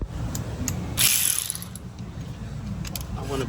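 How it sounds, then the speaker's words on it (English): A ratchet wrench works a brake bolt on a Ford Transit, giving rapid close clicking pawl ratchets in bursts, with a brief louder metallic scrape midway and no talk. "I want to break this loose first before I start ratcheting it."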